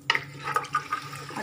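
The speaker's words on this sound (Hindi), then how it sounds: "चलिए इसमें मैं पानी ऐड करती हूँ।" Water splashes and gurgles as it is poured into a cooking pot of paya (goat trotters), a brief close-up pour with uneven bursts.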